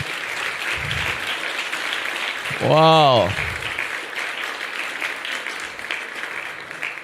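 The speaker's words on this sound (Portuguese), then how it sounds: "uma salva de palmas para eles" A church congregation at a Sunday service applauds steadily, a dense wash of clapping, with a short enthusiastic shout rising briefly above it.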